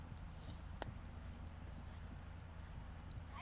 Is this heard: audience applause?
no